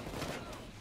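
Assault rifle fire in the Payday 2 video game, a brief rapid burst of shots heard close and full over a dense game soundscape.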